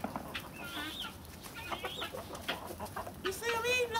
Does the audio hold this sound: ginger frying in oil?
no